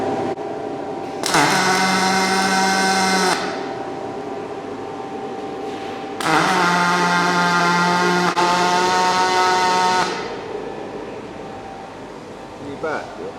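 Angle grinder cutting through a vehicle roof: two loud, high-pitched whining bursts of about two and four seconds, separated by a quieter gap, close by.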